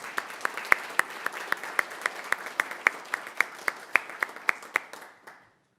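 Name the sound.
council meeting audience applause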